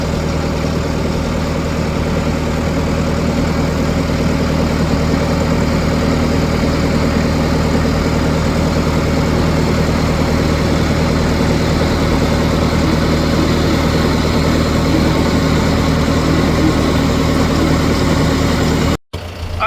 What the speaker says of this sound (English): New Holland wagon, New Holland harvester,